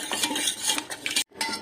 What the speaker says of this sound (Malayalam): ഇനി ഒരു സ്പൂൺ കൊണ്ട് നമുക്ക് നന്നായിട്ടൊന്ന് മിക്സ് ചെയ്ത് കൊടുക്കാം.